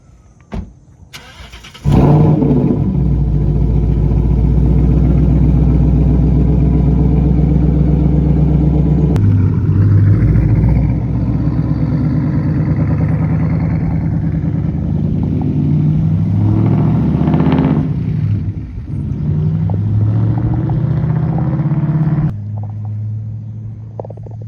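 A Mustang GT, either an S550 or a New Edge, drives with a loud, steady engine rumble that holds for about twenty seconds, swells slightly at times, and then eases off near the end. No voices are heard.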